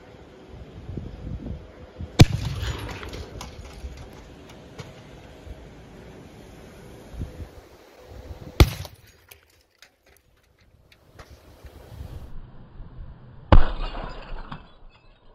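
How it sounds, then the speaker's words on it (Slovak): Firecrackers burst inside a microwave set out in an open field: three sharp, loud blasts well spaced apart, each followed by shattering, rattling metal and glass debris, with quiet stretches between. "Tak, výbuch bol veľmi pekný."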